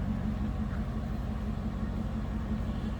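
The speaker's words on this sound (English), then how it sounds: "Doesn't sound like we have any aftermarket exhaust or anything like that on here" A 2006 Cadillac XLR-V engine idles with a steady low rumble through its stock center-exit exhaust, even and unchanging throughout.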